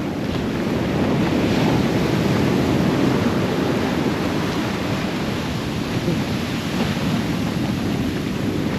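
Ocean surf washing onto Sapphire Beach at Coffs Harbour, NSW, Australia, on a morning walk: a steady, loud, broadband roar of waves with wind buffeting the microphone and no pauses or voices.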